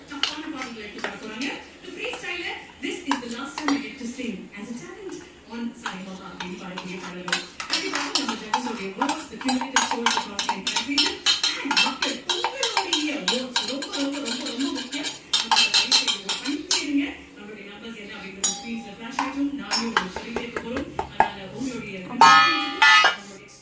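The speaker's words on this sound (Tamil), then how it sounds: "இப்போ வந்து நம்ம விஸ்க் வச்சு நல்லா மிக்ஸ்" A whisk beats eggless, milk-free cake batter in a bowl, rapid clinking metal strokes against the sides in uneven bursts, close and fairly loud, with someone talking over much of it.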